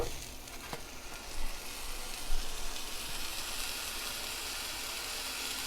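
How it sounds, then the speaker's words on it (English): About a pound of ground beef sizzles steadily in a pan as it is broken up and browned, a continuous dense frying hiss with a few brief louder crackles, heard alone without talk. "And let it sizzle. And all you're doing is breaking it up and browning it."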